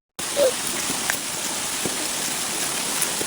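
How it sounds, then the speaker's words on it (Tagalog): Steady rain falls outdoors on a farm by a cornfield, a continuous close hiss of drops with a few sharper patters, lasting the whole short stretch. "Sige nga ulan."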